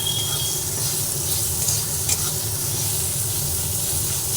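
A steady, loud sizzle of ginger in a hot pan, with a brief clatter partway through and no talking.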